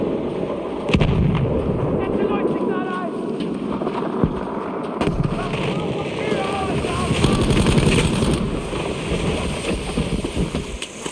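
Artillery barrages in Battlefield V's Combined Arms mode rumble on as a dense, continuous wash of distant booms and crackling blasts, with wind-like noise throughout and faint voices under the battle.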